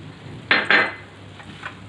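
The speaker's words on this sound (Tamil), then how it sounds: "மிக்ஸ் பண்ணி விட்டுருவோம்" Two quick scraping strokes of a spoon against a pan as soft kesari is mixed with saffron milk, each a short swish, followed by fainter clinks.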